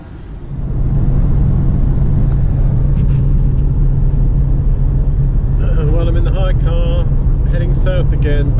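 Road noise from a car on a long drive home, heading south from Split Airport along the Adriatic coast: a steady low rumble throughout, with tonal engine or tyre sounds appearing in the last few seconds.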